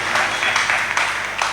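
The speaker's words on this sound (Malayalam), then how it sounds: "ഞാൻ പറയാതെ തന്നെ കൈയടിക്കും." Audience applause at a ghazal concert, a short burst of dense, sustained clapping that holds steady at a fairly loud level, with no speech over it.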